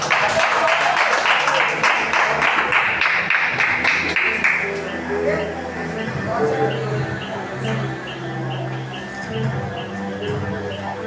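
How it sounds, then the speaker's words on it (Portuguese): A church congregation applauds as a broad, dense wash of clapping for several seconds, then it fades into softer room sound and a voice. "E quem crê, dê uma salva de palmas para Jesus."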